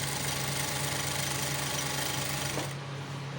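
A sewing machine stitching the sleeve seam of a gents kurta runs with a steady, rapid mechanical whir and thumping close by, then eases off near the end.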